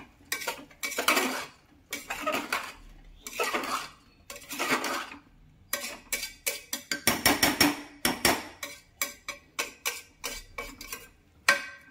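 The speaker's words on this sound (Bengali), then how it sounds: "এটাকে আবার নেড়ে নেবো ভালো করে" A ladle stirs daliya vegetable khichuri in a metal pot, producing close, bright scraping and clanking strokes in irregular bursts, sparse at first and then quick and rhythmic, with no voices.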